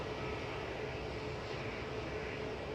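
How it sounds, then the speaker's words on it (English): A Kuwait Airways A320neo rolls out after touchdown at Manchester Airport, heard as a faint, distant, steady engine roar and wash with no talk. "Kuwait has just touched it down"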